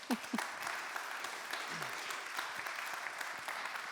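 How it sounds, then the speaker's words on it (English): Conference audience at a tech summit in Lausanne applauding a speaker: steady, fairly quiet clapping from a crowd, heard from a distance with a few faint voices mixed in. "But a big applause for Christian, please."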